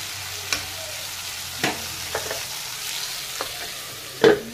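Eggplant pieces frying in a pan and being turned and stirred, giving a steady low sizzle broken by several sharp scraping knocks of the utensil, the last one loudest, with no talking.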